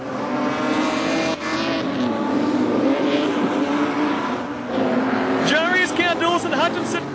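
Production sedan race cars roar around Carina Speedway during a final, with loud engines passing close and rising whines, while a commentator talks over the racing.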